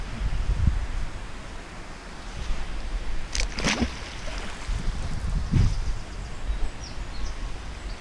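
Wind blows outdoors beside open water, a steady rushing roar with buffeting gusts on the microphone and a few faint scattered knocks, continuous throughout and no voices.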